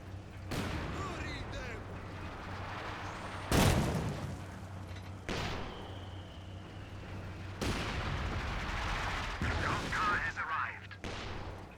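Mortar rounds firing and landing in a Company of Heroes 2 match, a string of sharp booms and impacts spaced across the clip over a steady battlefield rumble, with someone talking over the action.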